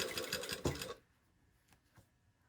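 A sewing machine stitches a shirt sleeve and cuff in a rapid, clattering run of needle strokes for about a second, then stops, leaving faint handling noises.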